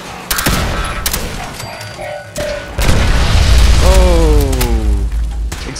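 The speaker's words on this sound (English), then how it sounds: "Explosions and fire." Explosions and fire in Fallout 4's Automatron add-on: heavy booms and crackling bursts erupt in a loud cluster, then a sustained roaring blast with a rising whine carries on to the end, with no talk over it.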